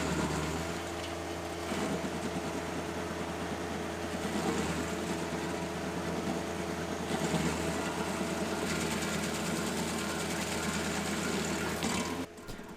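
A stump grinder chews into a big rotten tree stump, a steady droning engine with a rough, churning grinding texture running continuously at moderate loudness throughout.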